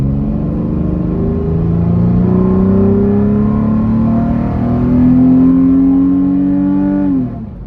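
Nissan VQ40 V6 engine revving up steadily for several seconds, a loud close rumbling drone whose tone climbs and shifts as the intake/exhaust timing changes, then drops off abruptly at the end.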